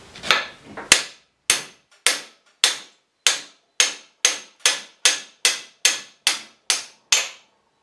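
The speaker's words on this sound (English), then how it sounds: "and a few blows of the hammer" Sharp metallic hammer blows knock old bushes out of a Nuffield steering box, about fifteen strikes at a steady, fairly quick pace, each ringing briefly before the next, close and clear.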